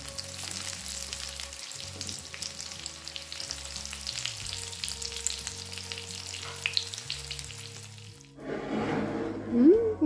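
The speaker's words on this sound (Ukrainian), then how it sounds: "Смажимо котлетки на розігрітій олії до золотистого кольору з обох сторін." Oil sizzles and crackles steadily as chicken patties fry in a pan of hot oil, close up, with soft background music; a brief splash of water near the end.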